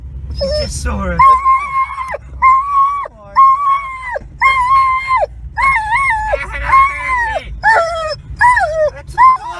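An older female dog whines and yelps in a long, excited run of high, wavering cries after spotting another dog, the calls coming in quick bursts close to the mic.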